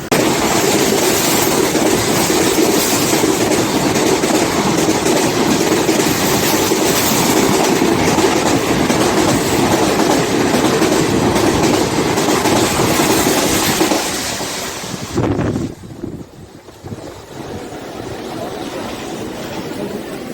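Train No. 07595 from Nizamabad to Kacheguda rumbles along steadily with loud, continuous rail noise and wheel clatter that drops away sharply near the end, then settles into a quieter running hum.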